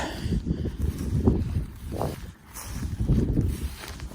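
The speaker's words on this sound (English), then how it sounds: "I hear an engine running over here." A steady low engine rumble from a generator or pump running near the North Dakota side, with gusty wind buffeting the microphone throughout.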